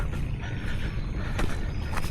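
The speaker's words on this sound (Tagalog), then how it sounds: "Ang dalawang makina yung maandar." Two irrigation pump engines run together for watering crops, a steady low mechanical drone heard at moderate distance with light clatter on top and no talk.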